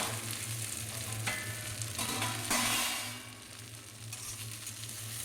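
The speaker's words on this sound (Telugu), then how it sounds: "మళ్ళీ ఒక స్పూన్ ఆయిల్ వేసి గోంగూర వేయించుకోవాలి" Gongura leaves fry in a spoonful of oil in a pan, a soft, steady sizzle over a low hum, swelling briefly midway as the leaves are stirred.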